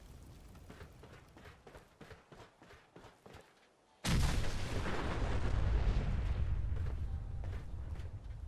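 A Fat Man launcher blast in Fallout 4 lands after a few seconds of soft, rhythmic footsteps, then a huge booming explosion rolls on and rumbles loudly to the end.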